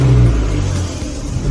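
A car engine idles and rumbles low and steady at close range, with a slight strain as the vehicle creeps forward with the steering at full lock.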